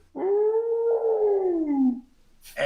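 A human voice imitates a whale-like underwater call heard during a technical cave dive, a single long moaning tone that rises slightly then slides down over about two seconds, close and clear, followed by a brief breathy noise.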